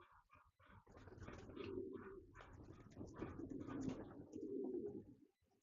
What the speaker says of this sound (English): I'm just gonna show some pigeons here.